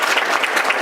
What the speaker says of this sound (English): If we could give a great round of applause for our supervisor